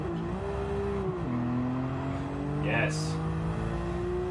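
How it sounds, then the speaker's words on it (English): A Nissan R32 GTR driven in Gran Turismo 7 drones with a steady engine note that dips at a gear change and then climbs again, while a person speaks over it. "First car, R32 GTR. Okay. Now I'm going to have to drive this thing as quickly as I can."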